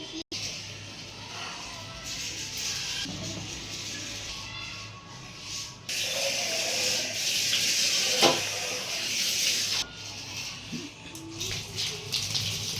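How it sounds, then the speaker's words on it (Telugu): A pot of water boiling with rice in it, giving a steady, dense bubbling hiss throughout that swells louder in the middle and then settles back. "2 మినిట్స్ వాటర్ మరుగుతుంది, ఆ రైస్ వేసిన తర్వాత ఒక 3 మినిట్స్లో కూడా అయిపోతుంది"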